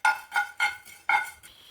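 Mustard and fenugreek seeds ground to powder in a kitchen mixer grinder for lemon pickle, heard as four short loud bursts of whirring grinding with brief pauses between, close by and with no talk.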